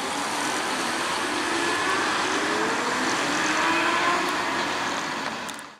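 A bus pulls away from Blackburn bus station, its engine a steady, fairly loud broadband rumble with smooth acceleration that holds throughout before easing off at the end.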